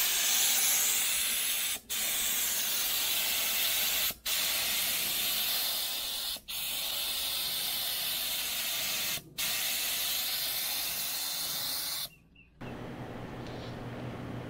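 Paint is sprayed onto a part in short bursts, each a loud, steady hiss broken by four brief pauses before the spray stops near the end.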